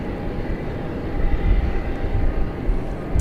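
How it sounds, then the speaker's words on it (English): Airbus A321neo airliner at Dallas Fort Worth International Airport at night, heard as a steady broadband engine roar that swells slightly midway, with no talk over it. "B Flight 2267 to Las Vegas and Airbus A321neo"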